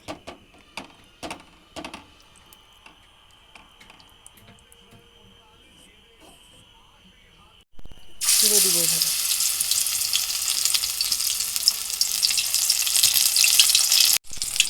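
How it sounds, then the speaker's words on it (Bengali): Battered dried fish fritters wrapped in pumpkin leaves drop into hot oil about halfway through, setting off a loud, dense, steady sizzle after a stretch of quiet kitchen clatter and small knocks. "এখন আমি কুমড়ো পাতা দিয়ে শুকনো মাছের বড়াগুলো ভেজে নেব"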